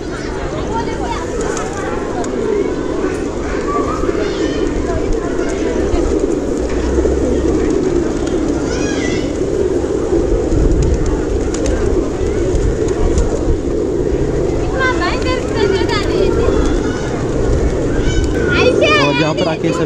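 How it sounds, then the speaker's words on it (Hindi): Pigeons coo steadily amid a busy, echoing crowd inside Pashupatinath Temple in Kathmandu, with children's voices and general chatter throughout. "यहाँ कबूतर देखिए"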